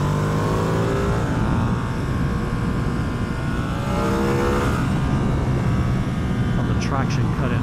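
A 2024 Ducati Streetfighter V2 motorcycle is ridden fast. Its engine drones steadily with rising and falling revs under heavy wind rush, and a rider's voice is heard over it.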